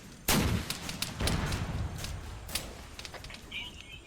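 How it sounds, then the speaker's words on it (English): Mortar rounds land in Arma 3 during a Vietnam-era operation, several distant thuds and booms spaced a second or so apart, set against low background battle noise with lighter pops between impacts. "They're mortaring me, I'm using heavy explosive on them, but mortars are pretty much decimating me."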